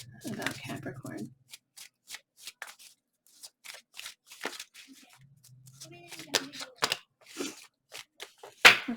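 Tarot cards are shuffled and drawn with soft, intermittent flicks and riffles between stretches of a woman's speech.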